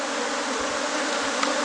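A bee swarm at an apiary gives a steady, close, dense buzzing that holds without a break for the whole stretch, with no voices over it.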